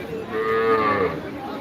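A cow moos once at a cattle market, a long, steady, fairly loud low call with no talking over it.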